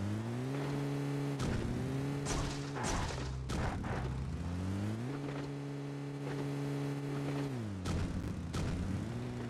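Engine of a car in the mobile shooter PUBG Mobile Lite: a steady motor hum that rises and falls as the vehicle speeds up and slows, with scattered sharp clicks and bursts overlaid.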